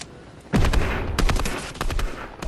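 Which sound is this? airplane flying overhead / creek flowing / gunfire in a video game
gunfire in a video game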